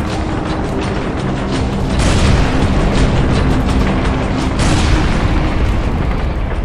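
A dense, continuous roar of explosions and rumbling blasts, loud and close, swelling with heavier booms throughout.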